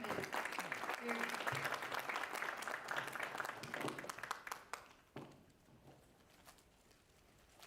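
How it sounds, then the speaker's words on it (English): An audience applauds to welcome a speaker at an entrepreneurship series event, several seconds of dense clapping that tapers off into scattered claps and then quiet room tone. "I would like to have a big round of applause for Dr. Amar Mosen"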